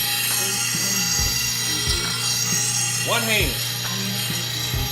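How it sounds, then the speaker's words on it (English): A Cobalt torque gun works a bolt loose on a 60-inch John Deere 930M zero-turn mower, with sharp ratcheting bursts and clicks up close over a steady hum and a brief whining spin-off near the end; one short spoken phrase is heard. "Cobalt torque gun."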